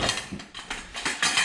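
Screws being backed out of the gear track on a kayak fitted with Boonedox landing gear, a close series of short ratcheting clicks and scrapes in quick irregular bursts.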